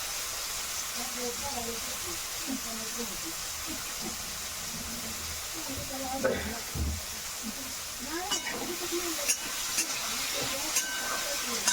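Green chilies frying in hot oil in a home kitchen, a steady broadband sizzle and hiss with occasional stirring clinks, while women chat nearby throughout.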